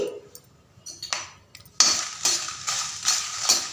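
Dry red chillies roast in a dry pan with no oil, giving a series of scraping, clinking stirs against the metal that grow louder and more regular after the first couple of seconds, with no talk.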